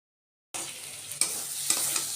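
Spice paste with salt, turmeric and red chilli frying in oil for a duck egg curry, a bright continuous sizzle that starts suddenly and carries a couple of spatula scrapes.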